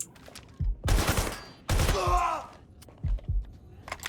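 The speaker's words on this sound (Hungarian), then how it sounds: "We're getting shot at here." Gunfire in Watch Dogs: Legion, two dense bursts of shots about a second apart, near and loud, followed by scattered thuds.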